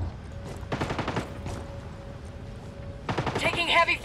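Heavy gunfire in Ghost Recon Wildlands arrives as short bursts of rapid shots, a quiet gap, then a louder sustained volley at the end, with a steady faint tone underneath.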